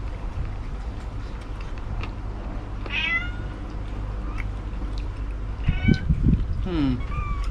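A cat gives a couple of short meows, fairly close, over a steady low hum of background noise, with some handling or chewing-like sounds in between.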